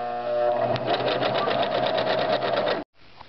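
A sewing machine stitches the gusset of a messenger bag with a fast, even mechanical whir and regular stitch ticking, close and steady for nearly three seconds before stopping abruptly.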